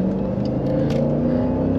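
A 2020 Jeep Grand Cherokee SRT with a 6.4L V8 engine pulls hard under acceleration in cool weather, a deep, steady rumbling drone with rising harmonic tones heard from inside the cabin.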